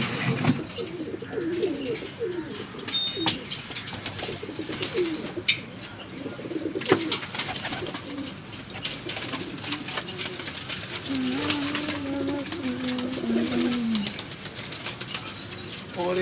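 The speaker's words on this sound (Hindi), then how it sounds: "मुझे अच्छा ये कबूतर लग रहा है।" Pigeons coo in soft, low repeated phrases among a flock, with wing flapping, rustling and clatter close by; a voice talks in places and the cooing grows clearer near the end.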